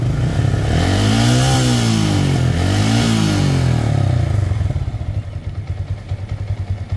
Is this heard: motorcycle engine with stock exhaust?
yes